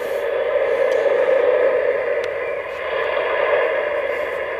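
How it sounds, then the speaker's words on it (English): Sound system of an MTH Proto 1.0 Southern Pacific A-6 Cab Forward model locomotive producing a steady, hissy tone motor hum with a broad noisy whine, continuous and fairly loud, with faint clicks over it. "But man, that tone motor sounds blowing me away."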